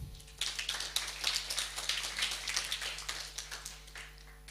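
Scattered clapping from a small audience at a university faculty information session, quiet and somewhat distant, with irregular claps building after a brief pause and then thinning out.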